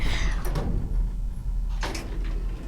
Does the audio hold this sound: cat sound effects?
no